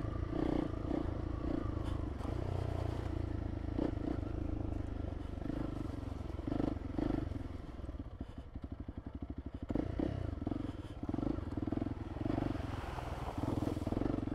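A Honda CRF300L Rally motorcycle rides off-road, its engine thrumming close with bumps and clatter, then briefly sputtering and stuttering in a rapid pulsing burst before picking up again, with no talking.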